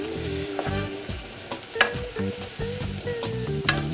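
Minced garlic stirred into a hot frying pan with softened onions for baked beans, a steady sizzle with repeated close scraping strokes of the utensil against the pan, loud and continuous with no voices.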